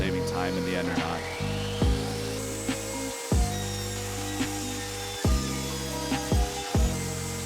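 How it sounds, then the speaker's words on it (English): A power saw cuts walnut desk panels to width in a basement woodshop, its steady whine broken by repeated dips and restarts as each cut runs, while someone talks over it. "Here I'm cutting the panels to close to their final width before I cut the miters."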